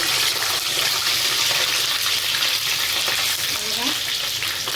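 French fries bubble and sizzle steadily in hot oil in a home kitchen, a dense close crackling hiss with faint stirring, loud and continuous throughout.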